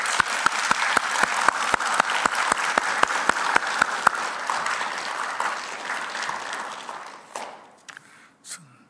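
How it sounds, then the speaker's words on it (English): An audience at a school commencement applauds the staff, a dense burst of clapping with a few loud close claps standing out, thinning and fading away toward the end. "How about a huge round of applause for the staff?"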